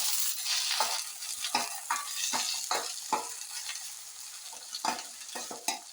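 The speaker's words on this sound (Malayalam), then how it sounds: "എണ്ണയിൽ വെണ്ടയ്ക്ക നന്നായിട്ടൊന്ന് വഴന്നു വരട്ടെ." Okra sautéing in hot oil, a soft continuous sizzle broken by repeated scraping strokes of a spatula stirring the pan, close and without talk.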